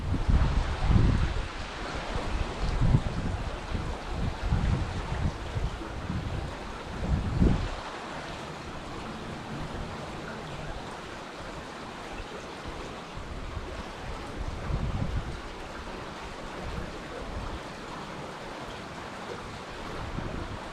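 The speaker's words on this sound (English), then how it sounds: "The wind's starting to pick up." Steady wind buffeting a microphone beside water while trout fishing near a Chattahoochee fish hatchery, a broad continuous rush with stronger gusts early on and around the middle, no voices.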